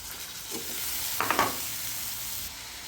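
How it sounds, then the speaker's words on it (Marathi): Tomatoes frying with red chilli powder, turmeric and onion-garlic masala in a pan, a soft steady sizzle with a few quick scraping stirs partway through, close and quiet. "लाल तिखट चांगलं भाजून झालं की टॅमॅटो घालायचे"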